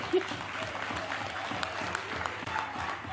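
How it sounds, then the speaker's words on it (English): A crowd at a political gathering applauds for Robert Sobukwe's 100th birthday, a steady dense wash of clapping throughout with a few brief voices mixed in. "can we clap for Robert Sobukwe?"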